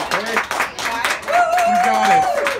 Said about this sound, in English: Big round of applause for Chantel.